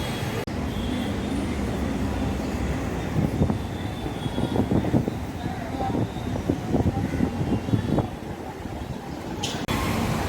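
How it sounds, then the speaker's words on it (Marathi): A crowded commuter train runs from Kopar Khairane to Thane with a continuous heavy rumble, and rattles and clatters bunch up midway. A brief cut at the start and end breaks the sound. "कोपरखैरण्यातून ठाणे ट्रेनने, परत ठाणे ते वागळे आगार बसने."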